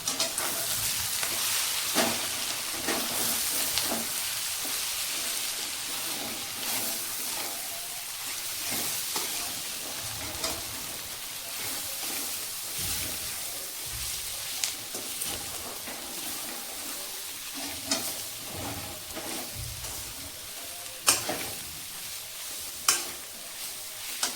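Coriander powder, goda masala, turmeric and salt sautéed for paneer pulao, a steady close sizzle with repeated scraping stir strokes of a spoon against the pan throughout, no talk.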